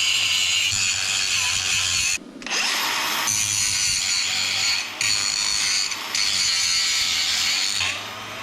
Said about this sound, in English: Alright, let's grind this up here.